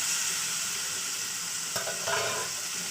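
Tomatoes, peas and green chillies fry in spiced oil, giving a steady, close hiss of sizzling with a couple of brief stirring scrapes near the end and no voices.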